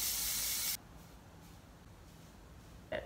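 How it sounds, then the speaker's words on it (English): Shine hairspray is sprayed onto hair in one loud, close aerosol hiss lasting under a second, followed by quiet room tone and a faint brief rustle. "I'm going to put my shine hairspray on it"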